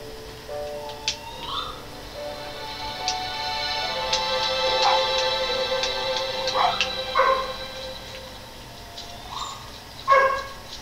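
A fox in the game Spirit of the North barks repeatedly, short yelping calls spaced irregularly over a tonal musical background, with one louder bark near the end.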